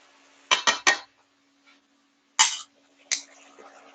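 Roasted mushrooms and potatoes are stirred in a pot, giving a few sharp metallic scrapes and clanks in a quick burst, then two more separate clatters, close and alone over a faint steady hum.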